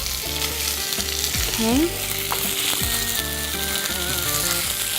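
Banana leaf parcels fry in avocado oil with a loud, steady sizzle and crackle, while music plays throughout and a voice speaks briefly.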